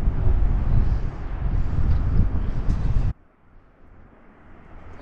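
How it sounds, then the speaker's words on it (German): Wind gusting in the Göscheneralp mountains, loud buffeting rumble against the microphone that cuts off abruptly partway through, leaving quieter background air. "der Wind pfeift mir da ordentlich um die Ohren"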